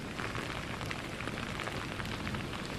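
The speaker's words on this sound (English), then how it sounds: "the rain has been kind of on and off all night, but has picked up significantly in the past 5 minutes or so" Steady storm rain falls outdoors at night, a dense continuous hiss of drops close by with no talk and no break in intensity.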